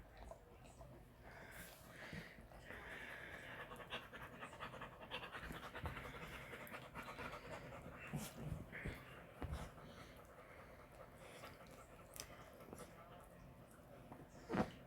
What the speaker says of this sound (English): Dogs are being weird.